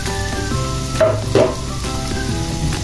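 Canned whole corn kernels fry in melted butter with a steady close sizzle over a low hum, with a couple of brief scraping stirs around the middle and no voices.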